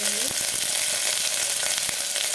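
Green chillies and curry leaves fry in hot oil in a pan, a loud, close, continuous sizzle with crackling spatters and a brief tonal squeak at the start.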